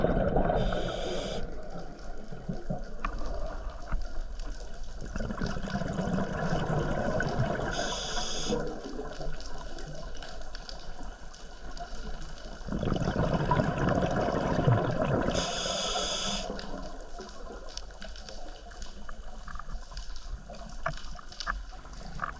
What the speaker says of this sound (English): Listen to all the cracking in the background.